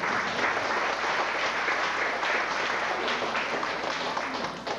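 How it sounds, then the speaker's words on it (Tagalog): Church congregation at an anniversary worship service gives a steady round of applause, a continuous dense clapping heard at moderate volume without voices on top. "Isa nga pong malakas na palakpak sa ating Panginoon."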